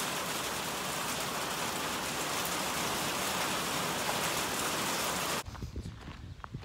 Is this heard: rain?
yes